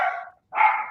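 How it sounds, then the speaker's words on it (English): Two close, loud dog barks from more than one dog, separated by a short gap, heard alone without talk at a naval park. "we have some dogs barking"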